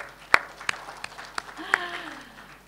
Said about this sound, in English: this is a big clap